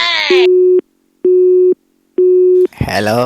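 A telephone line tone plays three steady, evenly spaced electronic beeps with equal silences between them. A voice speaks over the opening, and a louder voice cuts in at the end.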